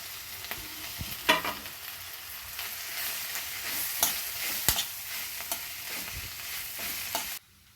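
A pan of mashed potato filling for masala dosa is stirred, giving a steady soft sizzle with irregular scraping clicks and knocks of the spoon against the pan, close and alone with no voices.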